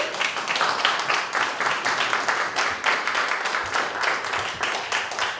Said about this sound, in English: let me give another round of applause to Mayor Pro Tem, Alfonso Thomas, Yolanda Barber, John Blunt, and Lakeisha Gant